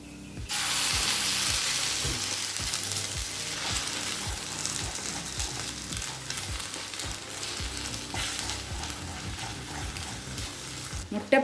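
Three eggs fry with shredded parotta on a hot pan for street-style egg kothu parotta, giving a loud, steady sizzle with spatula scrapes and stirring taps throughout.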